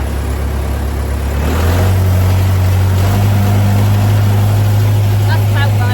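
A farm blower's engine fires up and settles into a loud, steady low drone as it warms, the pitch stepping up slightly after starting and holding even throughout.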